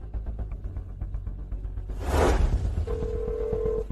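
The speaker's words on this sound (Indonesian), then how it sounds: "Aku akan telepon Hana" A telephone number dialed at home, with muffled button presses, a brief whooshing rustle, then a steady tone, fairly quiet with no talking.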